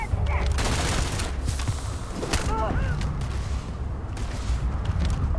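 Rapid gunfire in the Starfield video game rattles in a dense, continuous volley with loud crackling shots layered over a rumbling firefight.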